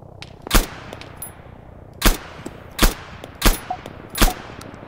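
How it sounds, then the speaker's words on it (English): ARMA 3 gunfire on a King of the Hill server: five sharp, loud shots spaced irregularly about a second apart, each with a short echoing tail over a quiet background, no talking. "Where I am at the moment, there is a mental amount of shooting going on"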